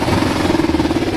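A Kawasaki ER-5 motorcycle engine idling close by, a steady throbbing putter with a rapid, even pulse.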